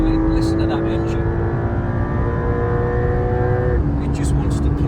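Inside a Porsche 992.2 Carrera at high Autobahn speed, the engine holds a loud, steady hum and then drops in pitch with a shift near the end, while people in the car speak briefly.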